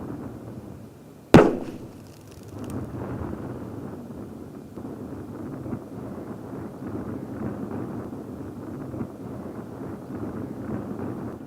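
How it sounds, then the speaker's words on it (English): A single electric detonator blasts between two Blastsax sandbag-style blast suppression units, one sharp loud bang followed by a brief decaying rumble, then steady wind noise outdoors. "Same again, single electric detonator, this time in between 2 Blastsax."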